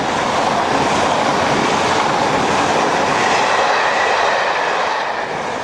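A passenger train passes on a British railway line, a loud, close, continuous rushing roar of wheels and carriages with faint clattering, fading slightly at the end, and no voices.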